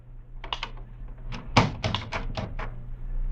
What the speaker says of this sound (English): It was long after midnight when my office door slowly opened.